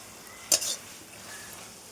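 Taro stolons being stir-fried in a pan with onion and mustard, two brief scraping stir strokes a second or so apart, close and fairly loud over a quiet background.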